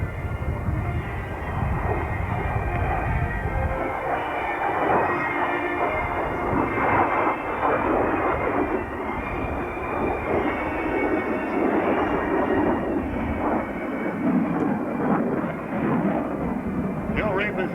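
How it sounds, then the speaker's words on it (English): Jet aircraft repositioning at the 1994 Dayton Air Show, a steady broad engine roar sustained throughout at moderate distance, with an announcer talking over it. "He'll reposition the aircraft once again"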